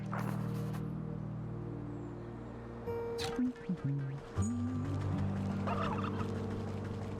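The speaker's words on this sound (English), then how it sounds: "Don't attack me, turkeys!" Turkeys gobble in the video game Wytchwood, with several loud, warbling gobbles close by over a steady game music bed and ambience.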